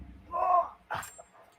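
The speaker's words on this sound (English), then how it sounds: "He's my English Bulldog." An old English Bulldog gives a short, soft whimper indoors, a brief nasal whine followed by a quieter second sound and faint trailing noises.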